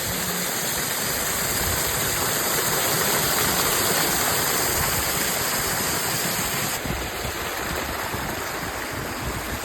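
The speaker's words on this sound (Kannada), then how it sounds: "ಹರಿದೋಗ್ತದೆ ನೀರು. ಸಣ್ಣ ಫಾಲ್ಸ್ ಬರ್ತಾರೆ." A small waterfall fed by hillside water rushes with a steady, broadband roar that stays constant and close, with no talk over it.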